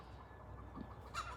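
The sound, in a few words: chickens clucking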